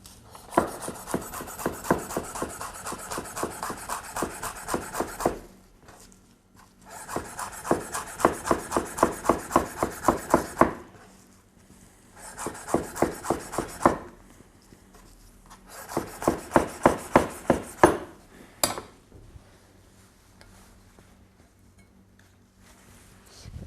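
A knife chops rosemary finely on a board in rapid rhythmic bursts, four runs of close, crisp taps separated by short pauses, with no one speaking.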